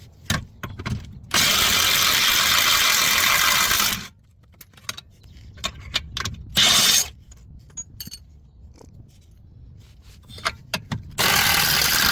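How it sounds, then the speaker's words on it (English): A 21mm socket on an impact wrench works a suspension bolt on a 2016 Nissan Altima control arm, with long, loud rattling bursts between short clanks and clicks, close and without talk. "then we use the impact wrench with the 21mm socket"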